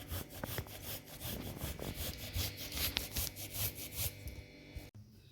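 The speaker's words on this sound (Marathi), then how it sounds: "इथे तुम्ही बघू शकता गूळ मी व्यवस्थित किसून घेतलेला आहे." Block of jaggery being grated by hand for sesame laddu, a rhythmic rasping scrape repeating steadily and fairly close, with no talk.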